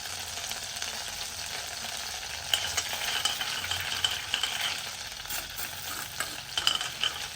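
Cumin seeds sizzle as they fry in hot oil in a pan, a steady broadband hiss with small crackles and a few stirring clinks throughout, no voices.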